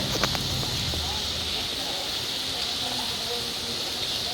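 Mixed vegetables, including potato, pointed gourd and soya chunks, fry in a pan with banana flower in a steady, close hiss and sizzle, with a few faint clicks early on.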